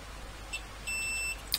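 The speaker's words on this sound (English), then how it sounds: "Yep, we got a beep there, so that one is also good." A multimeter in continuity mode beeps while its probes touch an inductor on a TDA2020 amplifier board, giving a short faint blip and then a steady half-second tone followed by another brief chirp, quiet and close.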